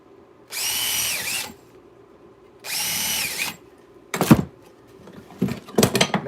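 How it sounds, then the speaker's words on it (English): A power drill bores holes in model layout pieces, two steady whirring bursts about a second each, followed by shorter choppy revving and grinding bursts, close and fairly loud. "let's drill these holes in these"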